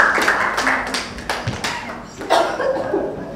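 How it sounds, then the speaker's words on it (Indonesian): Scattered hand clapping in an indoor acting lesson, a few sharp irregular claps and taps mixed with brief movement and faint voices. "Tepuk tangan juga."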